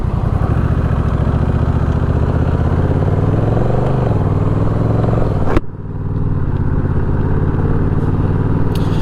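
Honda Rebel 1100 motorcycle braking hard with both wheels locking, a loud steady engine drone that sags in pitch, a sharp clunk, then a lower steady engine sound.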